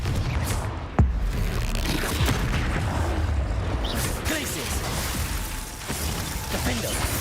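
A Confringo explosion spell bursts in Hogwarts Legacy, with a sharp boom near the start followed by rumbling, crackling combat noise throughout, loud and dense, with faint talk.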